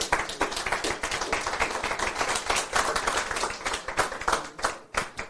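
A church congregation claps for the Lord during a Spanish-language sermon, with crisp, fairly close individual hand claps forming a lively, slightly uneven rhythm that rises and dips over several seconds.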